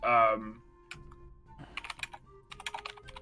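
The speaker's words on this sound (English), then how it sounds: "He's typing." Someone types on a computer keyboard in quick clustered bursts of clicks after a brief voice at the start, the taps close and moderately loud.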